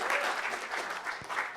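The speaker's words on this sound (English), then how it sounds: "Let's give a Rat Pack a round of applause" A crowd at an event claps for the Rat Pack team, a short dense round of applause from many hands, moderately loud and steady.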